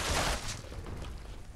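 Shots from an anti-armor explosive assault rifle in Fallout 76: a quick burst of blasts at the start, then a fading, fairly quiet tail.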